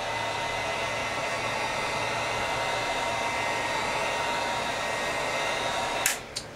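A hair dryer blows steadily at close range over a freshly airbrushed coat of blue paint on a scale model of a Reliant, a constant whooshing drone that cuts off near the end.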